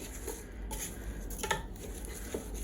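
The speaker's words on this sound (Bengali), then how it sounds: "সো এখন এটাকে একটু ভালো করে নাড়তে হবে, যেন পোলাও চালের সাথে আপনার মশলাগুলো ভালো করে লাগতে পারে।" A spoon clinks and scrapes against a pot while pilau rice with spices is stirred, making soft, irregular metallic taps and shuffles, quiet and close.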